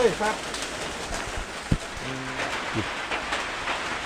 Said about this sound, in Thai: โอ้ฝนตกก็ฝนตกนะครับ บรรยากาศ ฝนตกพรำพรำนะครับ